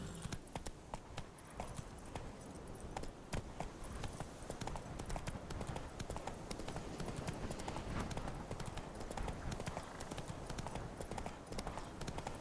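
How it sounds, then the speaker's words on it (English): A horse gallops in the video game The Witcher 3, its hoofbeats pounding steadily and loudly for the whole stretch, dense and continuous with no pause. "Run, Roach"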